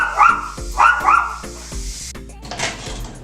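A dog barks in a home kitchen at the hiss of steam being let off a cooker. It gives a quick run of loud, close barks and yips in an uneven rhythm.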